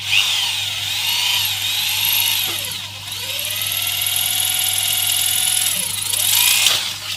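A power drill bores into the very hard steel of a rat trap cage, a loud, close, sustained whine that dips briefly around the middle and again near the end before pushing on.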